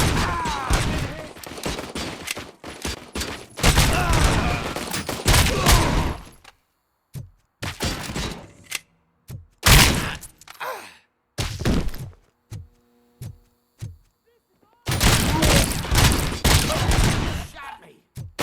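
Gunfire erupts in RoboCop: Rogue City in loud rapid bursts, dense volleys broken by short silences and a few isolated heavy shots.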